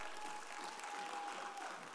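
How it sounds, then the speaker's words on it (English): A church congregation gives a hand clap of praise, a soft, steady wash of applause that sounds distant and fairly faint throughout. "And ought to give him a hand clap of praise for that."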